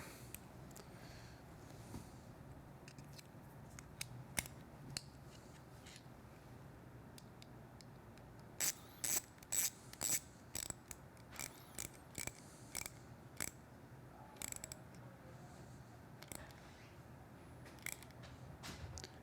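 A T20 Torx driver tightens a screw into a plastic part while a handlebar kit is fitted to a Triumph Street Twin motorcycle. It sounds as a close run of small, quiet ratcheting clicks over a steady low background hum.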